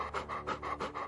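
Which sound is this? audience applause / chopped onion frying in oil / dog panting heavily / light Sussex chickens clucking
dog panting heavily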